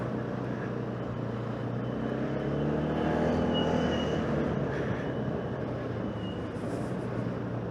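A Voge SR3 motorcycle rides through dense traffic at rush hour, a steady engine drone and wind rush holding at an even level with faint passing vehicle noise and no speech.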